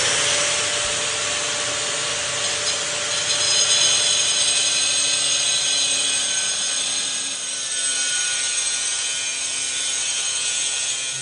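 A power tool grinds the edge of a porcelain tile to a 45-degree bevel, giving a continuous harsh, high whine with slight dips and swells in pitch and loudness, close and loud throughout.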